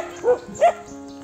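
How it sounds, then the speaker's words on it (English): Dogs herding a pig on an island in the Philippines give two short, high barks roughly a third of a second apart, moderately close, over a quiet background. "More dogs guiding the pig over there."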